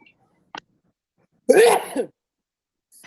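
A single sharp sneeze close by, preceded by a small click, with a quiet room around it.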